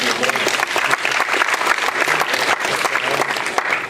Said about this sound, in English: Applause for Nicole.